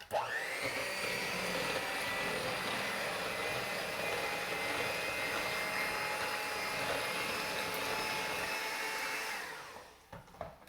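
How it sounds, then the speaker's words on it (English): Easter bread batter being whisked, most likely with an electric mixer: a steady, loud motor whine with a constant pitch that holds for about nine seconds, then cuts off and fades near the end, with no talking. "let's give this a little whisk. Get it all mixed well."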